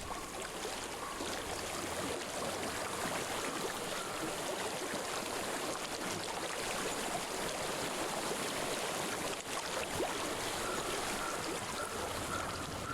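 A quiet, continuous babble of flowing stream water in the video game Hellblade runs steadily throughout, with no voices.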